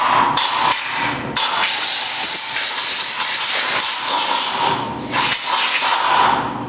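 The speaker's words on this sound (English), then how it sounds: "I got some compressed air here. I'm going to blow this out." Compressed air blasting through an Ingersoll Rand air compressor valve plate, loud, close hissing in several long bursts with brief pauses between them.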